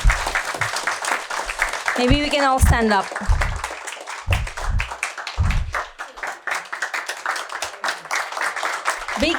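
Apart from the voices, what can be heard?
audience applause for the residents of Tampasak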